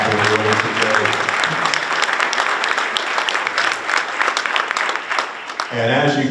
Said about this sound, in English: If we could give them a round of applause, all their efforts and what they're doing today.